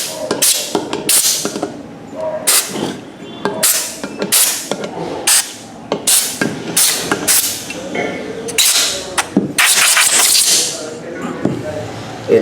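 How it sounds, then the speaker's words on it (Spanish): Compressed air blasts into the bolt holes of a motorcycle crankcase during assembly, coming as repeated sharp hissing bursts of varying length, loud and close, with longer sustained blowing near the end. "Igualmente, donde se alojan los pernos vamos a poner aire."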